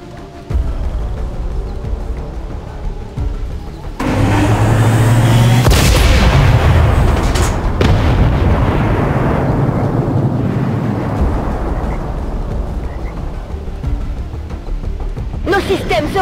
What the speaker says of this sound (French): Il faut neutraliser ce canon.